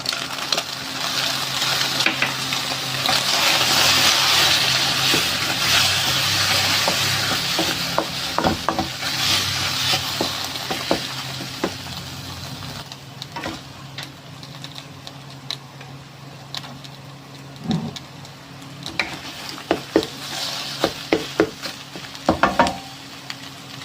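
Eggs stir-fried with fish sauce in a pan give a steady sizzle and frying hiss under scraping strokes of a spatula, loud at first, then thinning out into scattered clicks and scrapes toward the end, with no talking.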